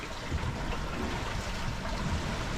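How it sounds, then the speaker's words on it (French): Gentle water sloshes and trickles steadily around a sailboat moving at about five knots in light wind, soft and continuous, with no voices. "là c'est paisible, vraiment paisible, que le bruit de l'eau, pas beaucoup de vent"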